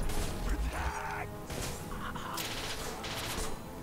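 Gunfire from a pistol in the video game Mass Effect 2, a burst of loud, dense combat shots mixed with other game effects and a brief voice, continuing steadily over a few seconds.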